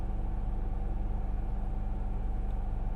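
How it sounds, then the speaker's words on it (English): A truck or bus engine rumbles low and steady at a city intersection, a close, continuous drone with no talk over it. "It might be a truck."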